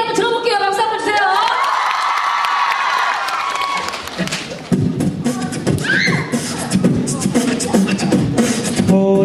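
A concert crowd claps and cheers loudly, with whoops and children's shouts rising over the applause throughout.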